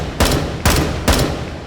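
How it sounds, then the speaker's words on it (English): Three evenly spaced single shots from an intermediate rifle cartridge striking armored targets in H3VR, each a sharp, loud crack with a short ringing tail, about half a second apart. "So I'm hitting them with an intermediate rifle cartridge."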